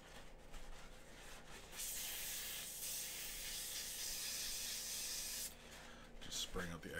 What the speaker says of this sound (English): Just spraying out the excess in the nozzle.